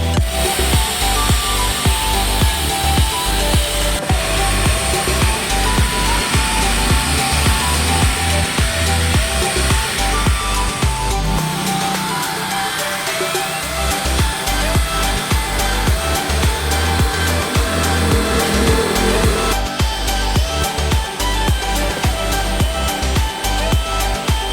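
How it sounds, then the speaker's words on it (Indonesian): A vacuum cleaner works over the carpet inside a Toyota Avanza during a regular car salon clean, its motor giving a loud, continuous whine and rush close by, with the pitch dipping briefly partway through. "nanti bakal kita vakum dan kita cuci untuk bagian karpet mobilnya"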